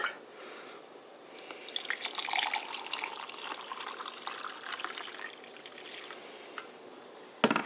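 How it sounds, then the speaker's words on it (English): Water poured into a glass of lemonade mix, a splashing, trickling pour that starts after a quiet moment and runs steadily before stopping, close and moderately loud. "last but not least, we pour in the water."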